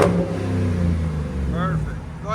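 A Jeep SRT with a 6.4L HEMI V8 revs hard and then holds a steady throaty roar, loud and close throughout, with people talking over the engine.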